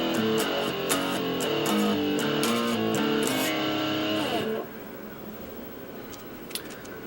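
A distorted electric guitar plays a riff, repeated chugging notes for several seconds, then cuts out and leaves a low hum with a faint click.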